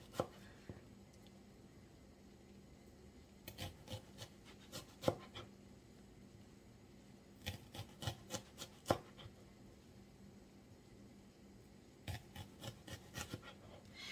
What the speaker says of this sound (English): So we're just going to slice these pretty thin.